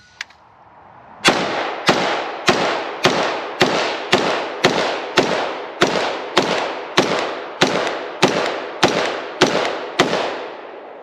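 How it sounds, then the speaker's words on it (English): An IWI Carmel rifle, a short-stroke adjustable-gas rotating-bolt gun, fires about sixteen loud, sharp shots at a steady, unhurried pace, each crack ringing out with a short echo. "first shots out of the Carmel"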